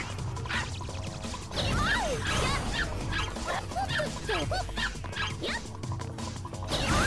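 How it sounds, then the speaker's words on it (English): An enormous dog in the video game Ranko Tsukigime's Longest Day gives a run of barks, yips and whimpers, with crashing thuds and game sounds behind them. "And now there's an enormous dog chasing us!"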